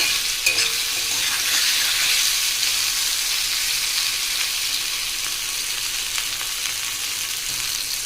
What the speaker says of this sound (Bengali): হ্যালো বন্ধুরা দেখুন নিম বেগুন ভাজার বেগুন ভাজা হয়ে এসছে